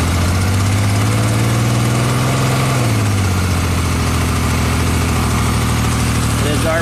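A Yamaha engine runs steadily during a battery charging system diagnosis, its loud close idle drone rising slightly in pitch as the RPM is raised before dropping back and droning on.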